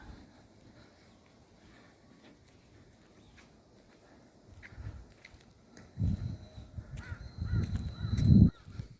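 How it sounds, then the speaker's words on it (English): Crows caw in the background, faint at first, then louder harsh calls near the end over low rumbling noise. "Those are crows in the background, if you can hear them."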